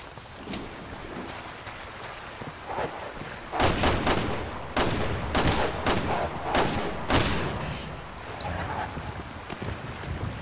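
Bursts of rapid gunfire from Resident Evil 6, with several loud, separate volleys and short pauses between them, heard alone without talk.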